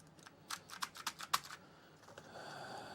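Fast bursts of keystrokes on an Apple //c computer keyboard, a quick run of about eight crisp clicks at close range, then a soft trailing clatter and quiet room hiss.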